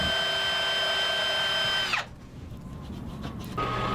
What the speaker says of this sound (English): a sanding drum in the drill works really good